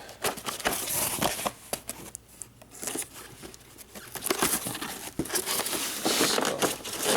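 Cheap toy tank unboxed from styrofoam packaging, with continuous close crinkling, scraping and tearing of foam and cardboard, loud and busy throughout.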